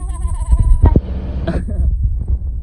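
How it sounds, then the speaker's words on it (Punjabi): Sheep bleat loudly and close by on a village road where a flock has gathered, two or three wavering calls with a quieter pause between them. "ਇੱਥੇ ਮੂਰੇ ਭੇਡਾਂ ਭੁੱਡਾਂ ਆ ਗਏ"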